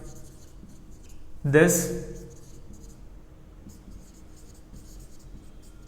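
Hand writing a math statement during a lesson, a quiet continuous scratching of pen or chalk strokes under a voice talking throughout.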